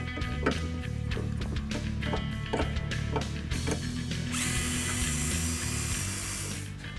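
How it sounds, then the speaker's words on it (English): A drill bites into a rivet on the radiator support of a 2013-2016 Ford Focus ST, a steady grinding whir with repeated sharp clicks and knocks, then a higher, smoother whine near the end. "If you do have the rivet, you have to drill it out to drop the radiator support."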